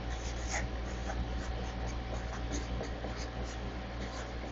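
Pencil or pen writing on paper makes a continuous soft scratching over low background hum, close and steady, with no voices.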